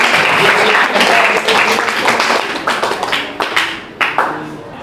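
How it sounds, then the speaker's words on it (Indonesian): Applause in a classroom during a teaching practice session: a burst of many hands clapping, dense at first, then thinning into scattered individual claps, with voices mixed underneath. "Beri aplaus untuk Atika."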